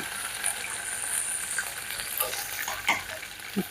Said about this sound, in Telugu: ఇప్పుడు మనం తాలింపు వేసుకుందాం